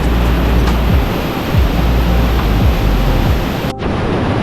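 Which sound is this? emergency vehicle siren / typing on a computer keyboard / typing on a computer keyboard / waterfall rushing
waterfall rushing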